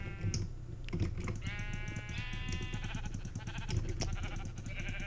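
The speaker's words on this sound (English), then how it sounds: "but we just started killing sheep" Sheep bleat in a survival video game, a wavering harmonic cry around the middle of the stretch amid busy game sounds and clicking keys, fairly close and moderately loud.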